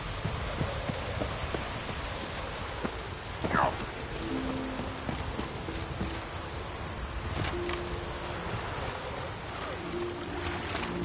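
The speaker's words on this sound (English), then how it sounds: "Take a soothsayer to know when it's raining." Rain falling in The Witcher 3 video game, a steady soft hiss of drops that continues throughout, with occasional light taps and thumps mixed in.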